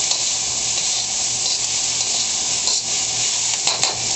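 Sliced scallions stir-frying in a hot pan for a vegan soba noodle stir fry, a steady bright sizzle running throughout with faint utensil scrapes near the end, no voices.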